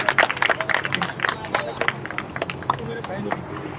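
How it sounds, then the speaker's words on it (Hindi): Applause for farmers at a Sonalika tractor agency inauguration in Bhadra: a brisk burst of many claps that thins out over a few seconds amid crowd chatter. "तालियां अभी मुक्त हस्त से बजाएं।"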